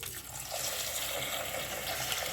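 Green gram and raw rice are washed together in water, a continuous, fairly quiet wash of running and sloshing water with no voices.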